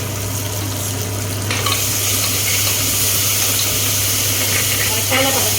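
Steady sizzle of onions and tomatoes sautéing in a pan for tomato rice, a continuous close frying hiss with occasional stirring scrapes.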